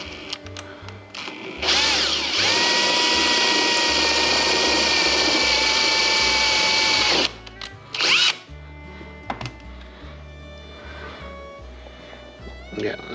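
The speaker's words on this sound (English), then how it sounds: "slowly take this stepper bit and see if I can remount the top just a little bit" A power drill fitted with a stepper bit runs slowly into the top of a VW distributor, a steady loud whine for several seconds followed by short bursts, with ratcheting clicks and faint talk in the background.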